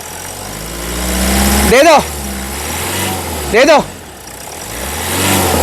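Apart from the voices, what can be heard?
Toyota Corolla Altis 2014 engine revving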